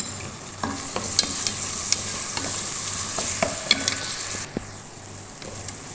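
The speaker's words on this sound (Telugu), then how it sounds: "అల్లం వెల్లుల్లి పేస్ట్ కూడా ఒక నిమిషం ఫ్రై అయిన తర్వాత" Ginger garlic paste fries with softened onions in a pan for chicken biryani, a steady close sizzle with repeated sharp scraping stirs and spoon taps, the hiss easing toward the end.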